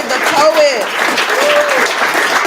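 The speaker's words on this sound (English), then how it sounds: "Y'all give another warm round of applause" Audience at a Poets & Pints poetry night applauds a poet with a dense, steady wash of clapping, joined by a few rising whoops and cheers.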